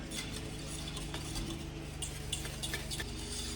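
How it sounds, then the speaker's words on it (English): Whisking lemon juice into a blueberry pie filling, a steady close scraping and clinking of a whisk against the bowl with soft stirring swishes running throughout. "I'm going to add 2 tablespoons of lemon juice. And then we're going to whisk that all in here."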